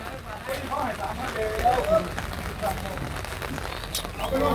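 Steady rain falls throughout at a cattle market in Ban Khwao, Chaiyaphum, a dense, even hiss close by with people talking over it.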